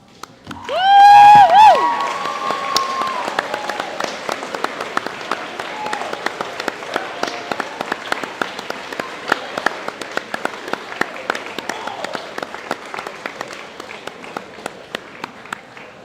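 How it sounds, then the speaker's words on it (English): A gym crowd at a school athletics awards banquet bursts into cheers and whoops, then settles into sustained, sharp clapping for the graduating grade 12 athletes, loud at first and gradually thinning over the following seconds. "Could all of the grade 12s please stand up for a round of applause?"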